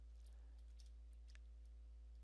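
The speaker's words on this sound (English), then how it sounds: "and then you're going to hit enter on your keyboard." Typing on a computer keyboard near a Dell Precision 5560 laptop, a few faint, scattered key clicks over a steady low hum.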